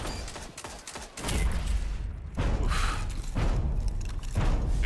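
A grenade goes off in a first-person shooter match, landing as a heavy low thud that booms and rolls away. Several more dull blasts and impacts follow in a loud game mix.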